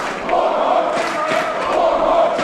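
A pro wrestling crowd at a Glory Pro match cheering for Warhorse Jake Parnell, a sustained roar of voices with rising shouts and a few dull thuds from the ring, moderately loud and continuous.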